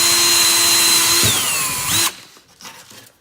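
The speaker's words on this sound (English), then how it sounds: "Drill a hole here." A power drill whines loudly and steadily up close, drilling a hole in a floating canvas frame, its pitch dropping as it bites in, then cuts off abruptly leaving quiet handling noises.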